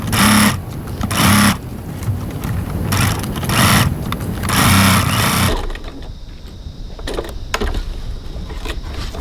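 A sewing machine stitches a seam with a 1 cm allowance in loud bursts of fast, whirring needle action, then slows to lighter, intermittent stitching near the end.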